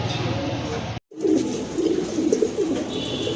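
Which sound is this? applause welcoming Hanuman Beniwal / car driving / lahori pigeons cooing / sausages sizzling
lahori pigeons cooing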